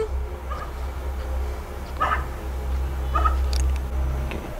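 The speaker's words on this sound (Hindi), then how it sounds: "नाज़रीन कुत्तों को भौंकने की आवाजें आ गई हैं।" Dogs bark in the distance at night, a few scattered short barks over a steady low hum and background noise.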